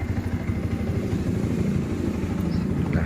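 A fuel-injected motorcycle engine, bored up with enlarged porting, idles during tuning with an automatic idle speed control valve, making a close, steady, lumpy low rumble with even pulses and no talking.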